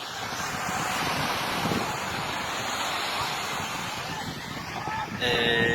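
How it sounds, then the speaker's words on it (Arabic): Sea waves wash onto the shore in a continuous broad roar, mixed with wind buffeting the microphone, and a voice speaks briefly near the end. "بصوا البحر جميل ازاي"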